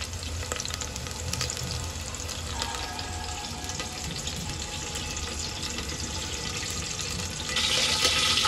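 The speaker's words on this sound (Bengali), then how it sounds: "সরষের তেল দিলাম, আর 3-4টে তেজপাতা দিলাম।" Bay leaves sizzle in hot mustard oil in a home kitchen pan, a steady, dense frying crackle that fills the whole stretch and swells a little louder near the end, with no voices.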